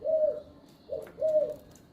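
Three soft, sweet spotted dove coos, each a gentle rising-falling note; the first alone, then two close together after a pause, near and clear.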